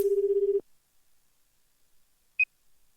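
Phone call tone in the video game AI: The Somnium Files, a short pulsing electronic ring for about half a second, then silence and a single brief high beep.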